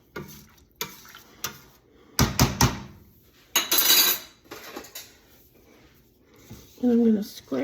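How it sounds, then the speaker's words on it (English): A spoon scrapes and clanks against a pot while sausage, chicken and shrimp gumbo is stirred, making irregular close metallic knocks and scrapes, with a brief voice near the end. "Give this a nice stir."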